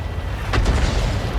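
A single deep artillery boom in a tank video game, set on the Karelia map, bursts out around the middle of a low, continuous battle rumble and rolls away quickly.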